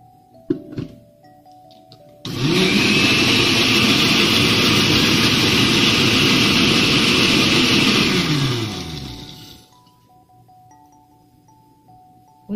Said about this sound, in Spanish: Echamos la maracuyá en la licuadora